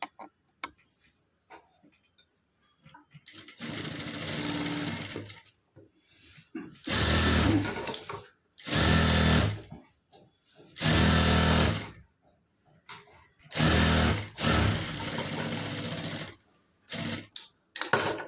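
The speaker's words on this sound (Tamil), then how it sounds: "இதையும் அப்படி தான் 1/2 இன்ச்சு வர மாதிரி அப்படியே ஸ்டிச் பண்ணிட்டு வரணும்" A sewing machine stitching a lined blouse sleeve runs in several bursts of a few seconds each, a close, steady mechanical whirr with short quiet pauses between runs.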